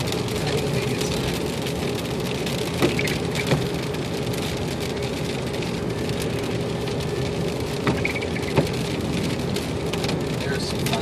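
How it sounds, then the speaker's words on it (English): Steady heavy rain pours during a severe storm in central Illinois, a constant dense hiss broken by a few sharp drips and knocks, with faint rumbles and passing traffic behind. "There's some thunder."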